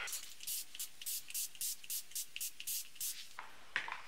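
Repeated hand-pump spray bottle misting water onto hair, about a dozen short hissing bursts in a steady rhythm, close and clear with no talking.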